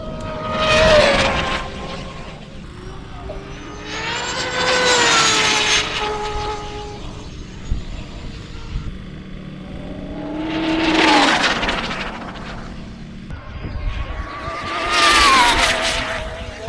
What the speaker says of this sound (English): enjoy the sound of tortured electric motors.